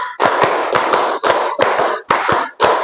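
A group claps hands together in a counting game, six or so sharp, loud bursts of clapping separated by short silences, each a brief volley from several people.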